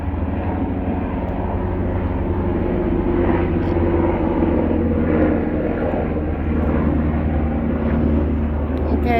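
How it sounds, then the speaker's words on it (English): An airplane drones steadily overhead outdoors beside a vegetable garden, a continuous low engine rumble holding fairly loud and even throughout with no talking. "Just a minute, there's a plane."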